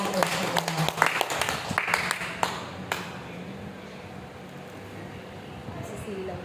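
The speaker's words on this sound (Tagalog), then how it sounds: "Malakas na palakpak ating Diyos." A congregation at a church service claps loudly, with scattered sharp claps in the first few seconds that thin out into background murmur while people talk.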